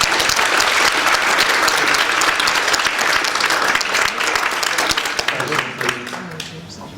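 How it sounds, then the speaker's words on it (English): Loud, full applause from a conference audience at a head and neck cancer meeting, with thick continuous clapping that holds strong before tapering off and a voice emerging at the close. "just another round of applause for these guys"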